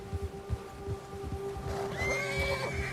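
A horse in Red Dead Redemption 2 gives a loud whinny over the clip-clop of its hooves on an outdoor trail, with a few hoof thuds first and then the drawn-out neigh close by.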